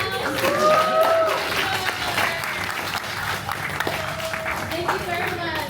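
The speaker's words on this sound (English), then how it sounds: "Everyone, please give a big round of applause." An audience at a Toastmasters club session for trainers and coaches applauds: a steady wash of clapping throughout, with a speaker's voice rising over it and faint tonal sounds mixed in.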